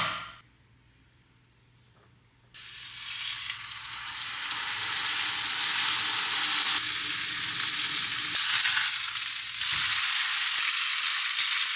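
A heavy pan holds a steak whose sizzle jumps from quiet to loud as the meat hits it, then keeps up a strong, steady, close hiss with a few faint clinks.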